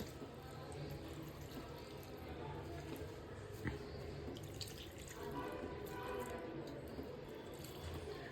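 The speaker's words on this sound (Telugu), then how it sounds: "ఇందులో ఇప్పుడు ఉడకడానికి సరిపడా నీళ్లు పోయాలి" Water is poured into a pot of red amaranth pulusu before pressure cooking, a quiet, steady trickle and splash with a few drips, heard close and soft against low room noise.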